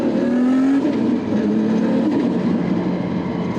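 An R32 Skyline GT-R with an RB32 engine and a Garrett G45-1500 turbo, heard from inside, pulls in a brief part-throttle burst, the engine note rising, then holding as a steady droning hum.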